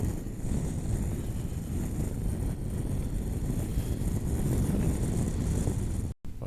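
Strong wind blows on a cold day on the road from Coyhaique toward Mallin Colorado, a constant low rumbling roar of gusts buffeting the microphone, continuous and fairly loud, with a brief dropout near the end.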